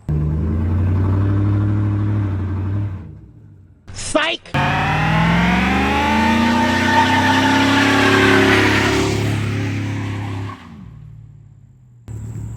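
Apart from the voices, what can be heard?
lowered Chevrolet Silverado truck doing a burnout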